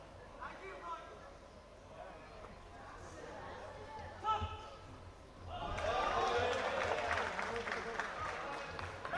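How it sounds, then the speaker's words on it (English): A local crowd at a youth amateur MMA championship breaks into applause partway through, a broad, sustained clapping swell rising over quieter arena murmur and lasting to the end. "gets a round of applause from the local contingent."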